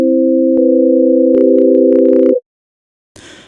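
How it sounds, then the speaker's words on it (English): A synthesizer operator's default sine wave oscillator sounds as a loud, pure sustained tone with a small pitch change partway, cutting off cleanly after about two seconds, followed by silence and a short burst of noise. "So you can see there that the basic default oscillator is just a sine wave."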